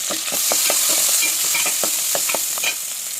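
Onions and coriander, with green chillies and turmeric, sizzle and fry steadily in a pan while a utensil stirs them in repeated scraping strokes, close and clear with no talking.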